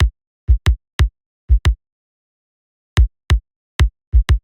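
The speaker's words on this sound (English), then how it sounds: "we have the kick drum, and it is very simple and it just sounds like this" A deep, punchy kick drum thumps alone in a sparse, irregular pattern, single and doubled hits separated by silence.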